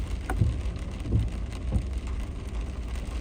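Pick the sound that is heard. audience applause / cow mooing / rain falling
rain falling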